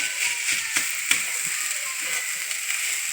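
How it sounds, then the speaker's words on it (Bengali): Cabbage and spices sautéing in a pan for a cabbage paratha filling give off a steady close hiss and sizzle, with occasional scraping clicks of stirring throughout. "কপিটা দিয়ে আমরা কষে নিচ্ছি সব মশলাগুলো দিয়ে"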